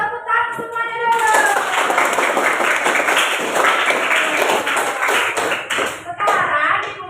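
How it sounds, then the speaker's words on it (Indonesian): A classroom of children claps hands together on a teacher's cue, a brisk burst of many small hands starting abruptly and running on loudly, with a few children's voices mixed in near the start and end. "tepuk tangan semuanya dulu"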